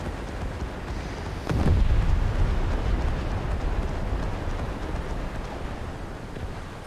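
Enemy warships open fire in a War Thunder naval battle, a sudden deep boom swelling into a sustained low rumble of gunfire that lingers over steady background noise.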